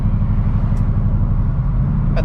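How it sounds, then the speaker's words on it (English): Cammed LQ4 Silverado with open exhaust cutouts gives a loud, steady, lumpy rumble close by, a deep throbbing idle running alone without talk. "I will get some idling and revs down"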